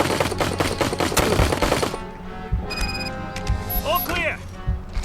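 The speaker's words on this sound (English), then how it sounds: "Shots fired! Shots fired!" Rapid gunfire rattles in a shootout in the video game RoboCop: Rogue City, dense bursts for about two seconds, then scattered shots and electronic effects as a voice speaks over the action.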